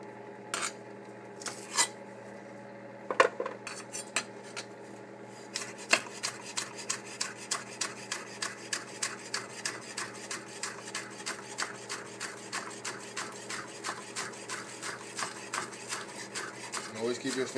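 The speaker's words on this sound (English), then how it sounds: "Cut up our onions" A knife chops onions on a cutting board in a kitchen, the stems already removed, giving a steady run of crisp, evenly spaced taps that speed into a brisk rhythm, close and fairly quiet, with a few clinks and scrapes early on.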